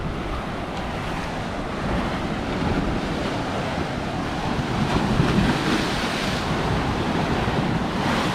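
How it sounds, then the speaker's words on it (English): Sea waves wash steadily onto a beach in a continuous broadband roar, with wind buffeting the microphone throughout a morning shoreline walk, no voices. "walking along here of a morning and listening to the water. It's just beautiful."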